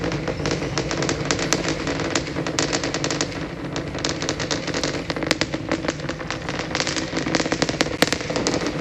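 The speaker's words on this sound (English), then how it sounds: "We have liftoff." SpaceX Starship lifts off on its fifth flight test, its engines producing a loud, continuous, crackling roar that sounds like rapid bursts and stays dense and forceful throughout.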